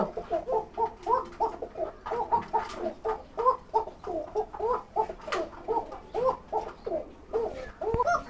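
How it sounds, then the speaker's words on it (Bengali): A pair of kuka pigeons at a pigeon farm cooing over and over in rhythmic, throaty bursts, close and clear with no talk. "এই আরেক জোড়া কুকা, এটা অনেক ডাকে"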